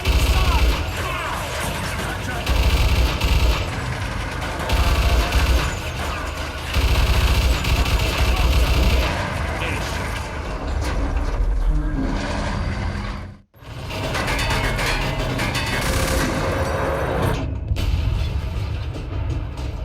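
Dense, loud battlefield din from Mafia II with heavy booms and crashing impacts of artillery fire rolling continuously, a brief sudden dropout midway, then the barrage resumes.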